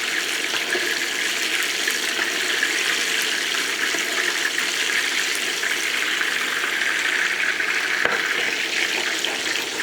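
Schnitzel fries in a pan of hot fat, a dense continuous sizzle and hiss as the pan is shaken, steady and close with one brief knock.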